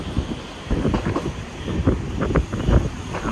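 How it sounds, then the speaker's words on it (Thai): A mountain train climbing from Interlaken Ost toward Grindelwald beside a stream, rumbling and clattering over the rails with buffeting wind noise on the microphone. "ขบวนรถไฟก็เริ่มจะขึ้นเขานะครับเริ่มไต่เขา"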